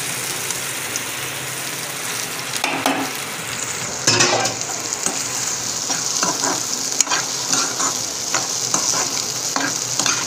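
Peanuts fry in a generous amount of salted oil for a Navratri dish. A strong, continuous sizzle runs underneath repeated close scraping and stirring strokes.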